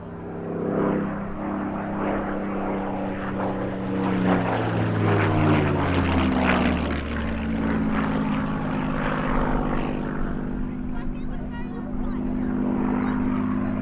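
Two Supermarine Spitfires of the Battle of Britain Memorial Flight displaying at the 2022 Cosford air show, their piston engines droning loudly with a sweeping pitch shift as they pass, under steady commentary from an announcer.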